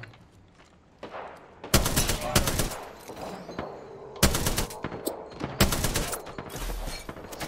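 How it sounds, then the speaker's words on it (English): Bursts of automatic gunfire crackle loudly in an Apex Legends match, several sharp volleys spaced a second or two apart with rapid shots in each, near and intense, a faint voice between them. "Getting shot at."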